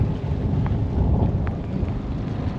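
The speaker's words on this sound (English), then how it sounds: "we are in a proper thunderstorm" Thunderstorm around a moored sailboat tied off and pointed into the wind, jib backed and main released: a constant heavy roar of rain and wind with low rumbling thunder throughout, no voices.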